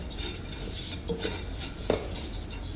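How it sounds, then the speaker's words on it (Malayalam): A spoon stirs date pickle masala in a pan, with a few distinct metallic clinks and scrapes of the utensil against the pan over a steady low background. "ഒന്ന് ഇളക്കി കൊടുക്കുക നന്നായിട്ട്."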